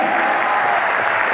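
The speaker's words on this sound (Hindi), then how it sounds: "इनके लिए एक बढ़िया ताली बजाइए।" A hall audience gives a dense, steady round of applause for women entrepreneurs at a motivational talk, a loud continuous wash of many hands clapping with no pause.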